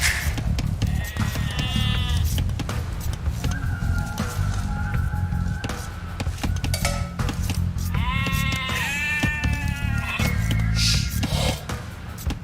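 Sheep bleat repeatedly in the Age of Empires II Definitive Edition campaign, with several clear, wavering calls clustered near the start and again toward the end over a steady game soundscape of ambient noise.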